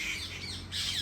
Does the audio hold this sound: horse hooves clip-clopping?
no